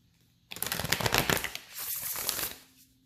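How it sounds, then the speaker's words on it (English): Tarot cards are shuffled in a quick, dense riffling burst lasting about two seconds, close and fairly loud, then settling into a softer shuffling before stopping. "I need to just stop shuffling directly next to the stand,"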